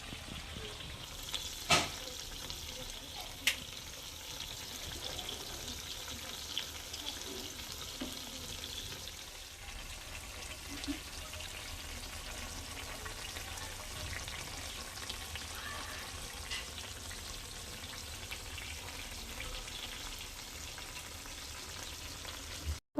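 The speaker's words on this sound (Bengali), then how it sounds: "এখন চিকেনটা ভাজতে বসালাম।" Chicken fries in a pan with a long, even, faint sizzle that holds steady throughout, broken only by a couple of sharp clicks, heard from nearby and alone.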